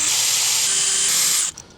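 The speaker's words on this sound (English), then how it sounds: "now I'm going to start drilling out this part" A power drill bores out a part inside a cargo trailer, a steady high-pitched whine running close and loud for about a second and a half before cutting off abruptly.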